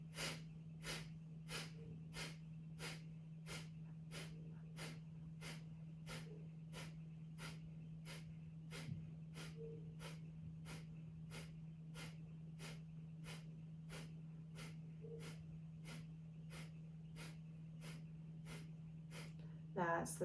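Forceful kapalabhati pranayama breathing: about thirty sharp, evenly spaced nasal exhalations in a fast steady rhythm, close and crisp over a constant low hum, ending with a slightly louder breath.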